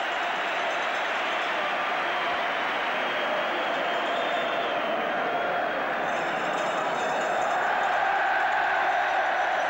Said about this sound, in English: crowd are shouting, "We want Saunders."